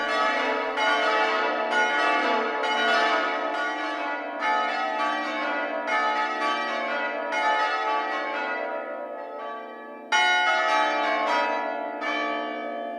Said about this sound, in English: It sounds so dramatic as the swinging bells appear to speed up